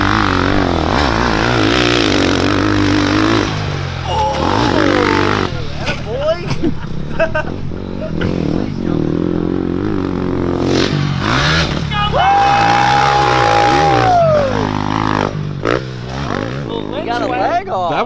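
A dirt bike on a mountain jump track roars and revs in bursts, loud and close, while excited voices chatter and shout over the engine.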